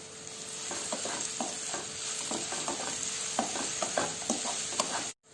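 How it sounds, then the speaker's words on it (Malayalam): Mashed banana and sugar sautéed in a pan: a soft continuous sizzle under repeated spoon scrapes and stirring knocks, fairly close, stopping abruptly at the end. "ഇനി നന്നായിട്ടൊന്ന് വഴറ്റിയെടുക്കാം"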